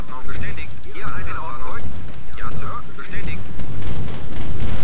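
Gunfire and explosions in Command and Conquer Remastered, a loud rumbling stream of shots and blasts beneath someone speaking German and chirpy game tones.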